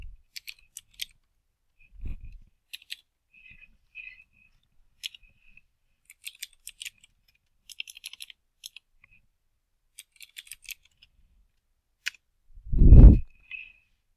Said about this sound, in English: So now we're going to type